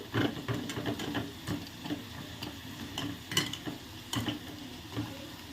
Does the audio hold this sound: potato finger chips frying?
yes